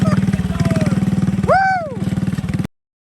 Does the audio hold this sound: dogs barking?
no